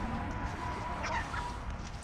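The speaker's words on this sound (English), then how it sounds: "There's the chicks. The chick, chick, chick, chick." Chickens cluck softly outdoors on a sunny day, low murmuring fowl sounds under a steady broadband background, no clear talk.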